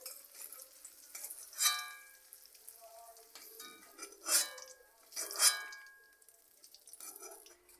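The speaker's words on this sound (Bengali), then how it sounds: "পনিরগুলো আমার হালকা করে ভাজা হয়ে গেছে এবার তুলে নিচ্ছি" Lightly fried paneer cubes lifted out of a pan with a metal spatula, a soft sizzle broken by several sharp scraping clinks against the pan, close by and without talk.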